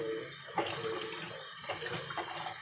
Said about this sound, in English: Okay, we're rinsing these mushrooms now.